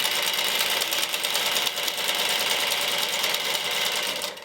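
A sewing machine set to a fairly wide stitch runs steadily along the curved top of a sleeve head, a continuous close whirring hum that stays even for several seconds and eases off at the end.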